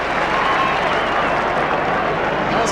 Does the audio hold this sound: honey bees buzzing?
no